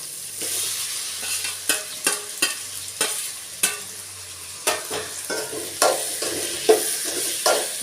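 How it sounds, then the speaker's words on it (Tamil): Tomatoes sizzle and sputter with onions in a hot pan for country chicken rasam, with repeated clanks and scrapes of a spoon stirring at a steady pace, close by. "தக்காளியை சேர்த்து நல்லா வதக்கி விடுங்க."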